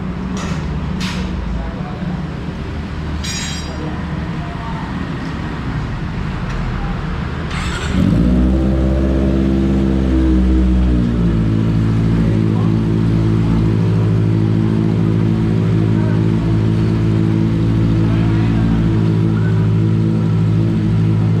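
A Kawasaki ZX25R motorcycle engine, checked before a test ride, sits quietly at first, then fires up loudly around the eight-second mark into a steady, droning run that holds close and strong to the end.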